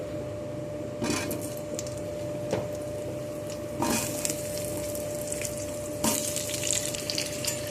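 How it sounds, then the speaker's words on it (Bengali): Cut potatoes frying in oil tempered with cumin give a constant crackling sizzle, broken every couple of seconds by louder scraping stirs and clattering of the pieces, with a faint steady hum beneath. "এখন এর মধ্যে আমি দিয়ে দেব কেটে রাখা আলু।"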